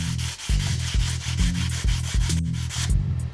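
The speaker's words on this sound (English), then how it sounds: "That's why I'm using this grade of sandpaper." Sandpaper rubbed over a Pearl drum shell in quick, regular back-and-forth strokes, close and loud, each pass a gritty rasp with soft thumps as the direction changes.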